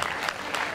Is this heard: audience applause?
yes